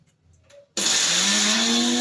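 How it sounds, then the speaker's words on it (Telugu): A kitchen mixer grinder starts abruptly and runs loud and steady, grinding coriander chutney after a quiet moment, its motor whine climbing slightly in pitch. "మిక్సీ పట్టుకొని వచ్చి చూపిస్తాను."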